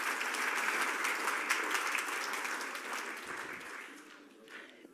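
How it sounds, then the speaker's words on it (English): A room full of people at a desert wildlife center talk applauds, steady clapping at first that gradually thins and fades out over several seconds. "So round of applause for all of you."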